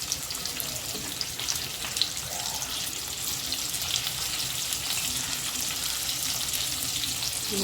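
Stuffed bitter gourds fry in a little hot oil in a pan, giving a steady, close sizzle that holds at an even level throughout with no talking.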